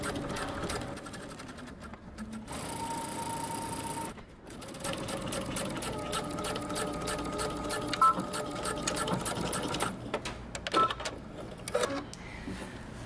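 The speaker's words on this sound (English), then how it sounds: "I'm just gonna sew right over it using a normal length stitch" A sewing machine runs a normal-length stitch over a basted welt pocket seam on a coat, a steady mechanical whir with short pauses and stop-start bursts, close by, with some talk over it.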